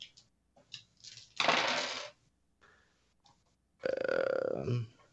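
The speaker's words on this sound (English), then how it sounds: "Do you hear how many dice just hit the table?" Many dice tumbling and clattering onto a tabletop during a tabletop role-playing game session, a loud rattling burst in the middle, then a second rattling spill with a ringing tone near the end.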